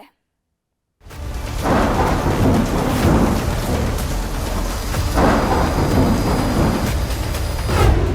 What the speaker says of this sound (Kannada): ಕರುನಾಡಲ್ಲಿ ಪುಷ್ಯ ಮಳೆ ಅಬ್ಬರಿಸಿ ಬೊಬ್ಬೆರಿತಾ ಇದೆ